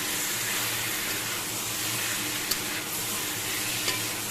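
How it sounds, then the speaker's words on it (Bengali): Chunks of elephant foot yam and potato are stir-fried in a pan, giving a continuous loud sizzle with a steady scraping of the spatula and a couple of sharp clinks, no voices. "এবার এটাকে ভালো করে আমি কষে নিচ্ছি"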